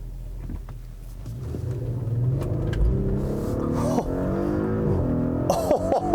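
A 2018 Audi SQ5 accelerates hard at full throttle, its engine note climbing steadily as a loud, continuous rumble heard from inside the cabin, with a brief shift near the end.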